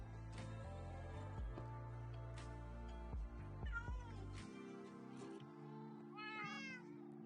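A cat meows several times in a row, close and clear, with a longer drawn-out meow near the end, over a low steady hum from a train interior being worked on.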